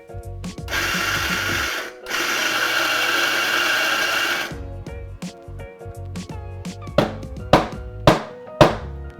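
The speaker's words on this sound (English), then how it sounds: "you can time the dose on this grinder" A coffee grinder whirs through a dose of beans in two sustained bursts with a short break between them, followed by a series of sharp knocks and taps.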